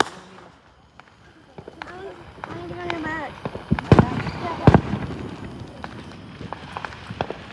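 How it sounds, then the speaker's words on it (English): Firecrackers pop outdoors in a few sharp bangs, with two louder blasts close together near the middle, amid background chatter and voices. "Hey, we popping firecrackers today."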